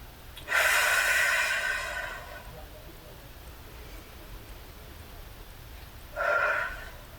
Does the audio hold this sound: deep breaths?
yes